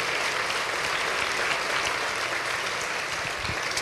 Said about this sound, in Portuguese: Dê uma forte salva de palmas para Jesus.